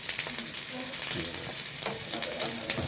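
Suman rice cakes fry in hot oil with a dense, continuous crackling sizzle, close and steady for the whole stretch without a break.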